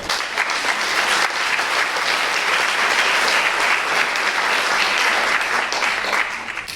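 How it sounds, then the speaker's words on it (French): Audience at the opening of a conference event applauding its partners, a full, sustained round of clapping from a large room that holds steady and tapers slightly at the end. "je vais vous demander de les applaudir,"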